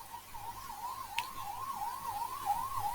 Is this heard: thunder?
no